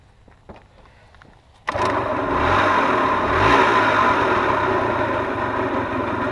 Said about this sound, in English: trying to start the engine